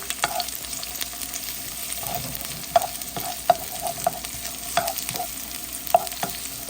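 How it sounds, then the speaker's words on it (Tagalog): Ginataang langka, young jackfruit in coconut milk, being stirred in a cooking pot, with a low bubbling simmer and repeated clinks and scrapes of a ladle against the pot, close by. "Ayan, halu-haluin natin. Haluin natin maigi."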